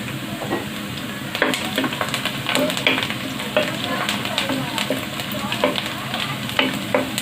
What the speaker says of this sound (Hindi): प्याज थोड़ा थोड़ा फ्राई हो गया है।